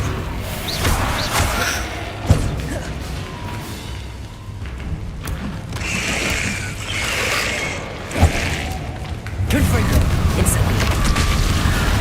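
Incendio fire spells in Hogwarts Legacy flare in a few booming, whooshing bursts and thuds over a busy, continuous game background.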